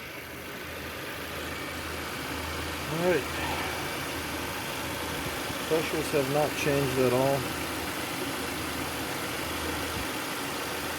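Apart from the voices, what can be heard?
car engine idling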